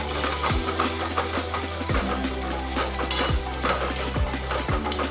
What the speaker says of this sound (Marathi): लाल मिरची पावडर एक चम्मच धना पावडर आणि चिमूटभर हळद सोडत आहे सर्व मी आता मस्त छान असे परतून घेते